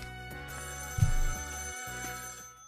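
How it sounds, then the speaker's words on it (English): A telephone rings in the Raidou Kuzunoha video game, a synthetic repeating ring over steady game background music, short and clear with no talking. "the phone is ringing the moment they hit the roof"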